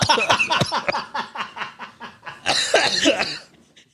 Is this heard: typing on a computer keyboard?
no